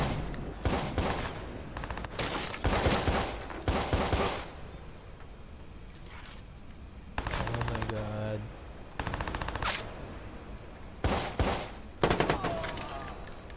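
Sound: gunfire from high-powered guns in the video game Watch Dogs

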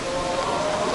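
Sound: heavy rain

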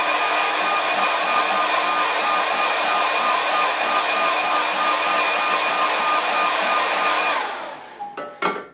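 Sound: hair dryer drying watercolour painting

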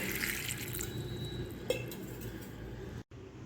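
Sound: washing drumstick pods in clean water

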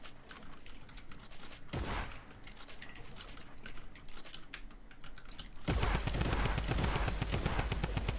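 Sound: gunfire in Fortnite video game

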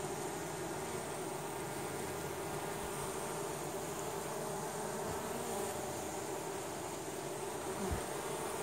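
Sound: honey bees buzzing at a hive

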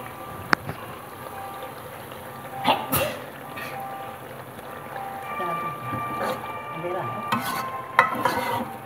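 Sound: meat frying and sizzling with spices while stirred

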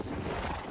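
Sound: horse hooves clip-clopping in video game Battlefield 1

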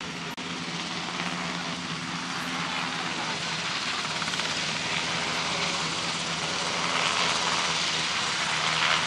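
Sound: helicopter flying overhead

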